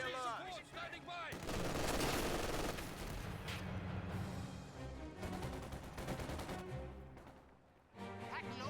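MG42 machine gun fire in the wartime strategy game Company of Heroes 2, sustained rapid bursts mixed with other gunfire and explosions, loud and dense, with a brief voice at the start before the shooting.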